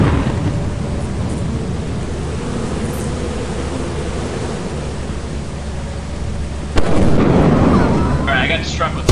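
Lightning strike and thunder in the video game Lethal Company: a steady loud rumbling roar that suddenly jumps into a harsher crackling burst near the end, with a voice speaking faintly underneath.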